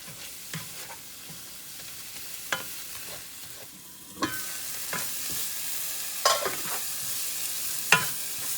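Paneer curry gravy being stirred and mashed in a pan, with repeated scraping and knocking of the utensil over a soft, constant sizzle from the pan.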